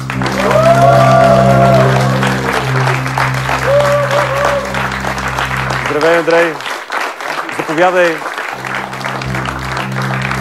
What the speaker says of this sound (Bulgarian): Аплодисменти, дами и господа, за социолога Андрей Райчев.